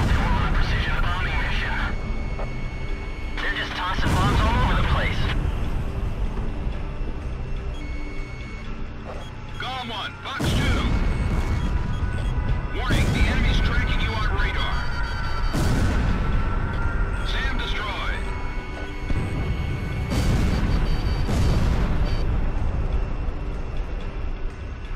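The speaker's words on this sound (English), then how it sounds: "Drop more bombs." Bombs dropping and exploding in the Ace Combat Zero flight game, with several heavy blasts at irregular intervals over constant jet and engine drone, mixed with radio chatter and beeping alerts.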